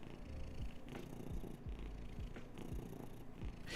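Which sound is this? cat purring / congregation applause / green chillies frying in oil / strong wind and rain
cat purring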